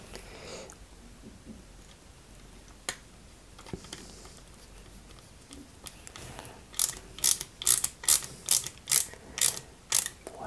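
A small screw driven into a mounting bracket of a Lancia 037 model car kit: faint handling noises, then a steady run of about eight sharp ratcheting clicks from the screwdriver, close and distinct.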